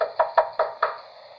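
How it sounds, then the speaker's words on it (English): Five sharp knocks rap on a bedroom window in quick succession, evenly spaced and fairly close, then stop, leaving quiet with no voices. "the knock at the bedroom window."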